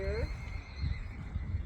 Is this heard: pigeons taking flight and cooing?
no